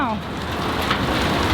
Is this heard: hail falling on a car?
yes